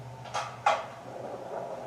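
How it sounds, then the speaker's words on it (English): A house door opening downstairs, heard as two quick faint clunks about a third of a second apart with a brief rattle, distant and slightly echoing in an otherwise quiet room. "It was a door opening."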